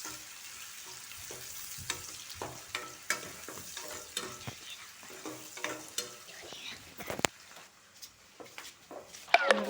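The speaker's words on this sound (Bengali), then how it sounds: "ধুনীয়াকৈ পিঁয়াজখিনি ভাজি ল'ম" Onions fry in oil in a pan for a goat meat and yogurt curry, with a steady sizzle and frequent sharp clatters and scrapes of stirring throughout.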